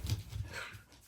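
Hungry dogs on a snowy backpacking trip whimper and grunt softly up close, a short pair of low, breathy whines.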